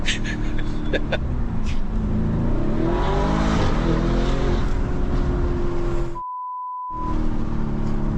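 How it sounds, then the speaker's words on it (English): A Lamborghini cruising on a road just under the speed limit, its engine droning steadily with rising revs, a loud beep tone near the end, and people talking over it. "we are driving just under the speed limit"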